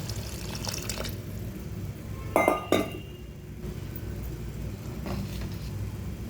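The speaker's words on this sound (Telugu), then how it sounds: "ఇప్పుడు ఈ చింతపండు పులుసు నీళ్ళు పోస్తాం" Tamarind water poured into a cooking pot of simmering bitter gourd stew, a brief splash and clink of metal midway through, surrounded by a faint steady kitchen hiss.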